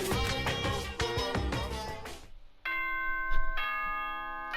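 Announcement chime from the video game Danganronpa: a bright, clear chime rings out after a busy stretch of music, then rings again and sustains, loud and near.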